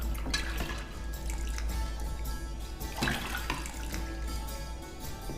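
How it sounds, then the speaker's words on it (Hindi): Water pours out of a container in a continuous splashing gush over a low steady hum, with a louder surge midway, fairly close and without speech. "अरे भाई, ये तो पानी है।"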